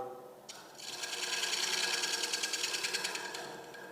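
A gouge cuts wood on a lathe while a shallow platter is being turned, a rising scraping hiss that starts after a pause, holds steady and fades near the end, fairly quiet and close.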